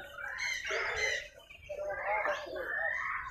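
Several birds in a pet bird shop chirp and squawk loudly together, close by, in a busy overlapping chorus.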